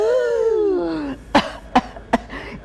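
A voice imitates a whooping cough: a long rising, wheezy drawn-in breath followed by three or four sharp, spaced coughing bursts.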